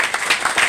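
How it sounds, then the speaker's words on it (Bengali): Audience applause breaks out at a Vestige business seminar, a short, dense burst of many hands clapping together at steady loudness. "জোরালো একবার হাততালি।"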